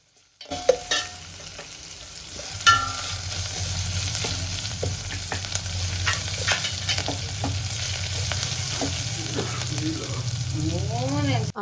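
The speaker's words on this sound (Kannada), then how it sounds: "ಒಗ್ಗರಣೆಗೆ ನಾವು ಬೆಳ್ಳುಳ್ಳಿ ಹಾಕ್ಕೊಂಡು ಅದೊಂದು ಸ್ವಲ್ಪ ಹೊತ್ತು ಒಂದು 5 ಸೆಕೆಂಡ್ಸು ಫ್ರೈ ಮಾಡಿಕೊಂಡ್ರೆ ಸಾಕು." Steady, loud sizzling of garlic frying in hot oil for a tomato rasam tempering, with occasional stirring scrapes and clinks close by, continuing throughout without talk.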